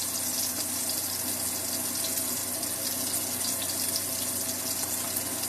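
Water runs steadily from a kitchen tap as grease is washed off a finger, a continuous hissing splash at close range with no pause and no talking.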